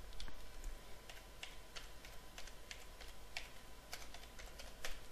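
Someone types an IP address on a computer keyboard while configuring a storage server, producing a steady run of quick, light key clicks with uneven rhythm, close and clear with no voices.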